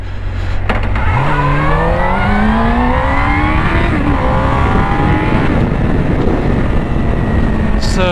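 A Suzuki GSX-R600 motorcycle engine revs steadily higher under rider power, its pitch climbing through the gears, with heavy wind rush throughout, loud and close.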